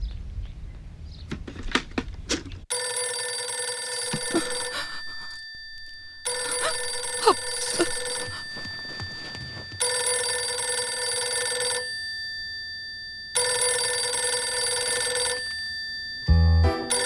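A telephone rings in four long electronic bursts separated by pauses, loud and close, with a few brief clicks and knocks before the ringing starts.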